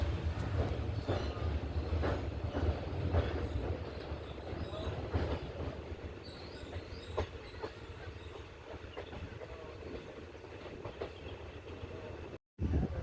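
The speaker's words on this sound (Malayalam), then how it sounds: "ട്രെയിൻ ഇപ്പോൾ ഇറങ്ങിക്കൊണ്ടിരിക്കുകയാണ് ഭഗവതിപുരം സ്റ്റേഷനിലേക്ക്." A passenger train on the Kollam–Sengottai line rolls downhill toward Bhagavathipuram station, with a steady close rumble and rhythmic clickety-clack of wheels over rail joints, plus light squeals, continuing throughout with a brief dropout near the end.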